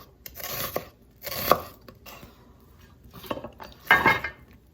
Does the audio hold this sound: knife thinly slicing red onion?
yes